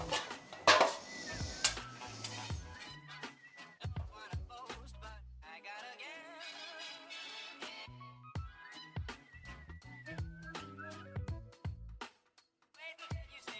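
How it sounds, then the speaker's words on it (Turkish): A spoon clinks and scrapes in a bowl of cake batter with raspberries, then the batter is spooned into a dish, giving sharp intermittent knocks and taps up close with quiet pauses between. "50 gram da frambuaz koyduktan sonra tekrar karıştırıp kaba alıyorum"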